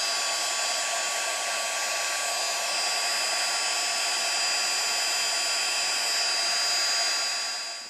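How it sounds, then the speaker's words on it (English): A heat gun blows steadily on an embossed card, its even, close airflow whirring without a break for several seconds before trailing off slightly at the end. "my heat gun, I want to heat it up just a little before I put it on there"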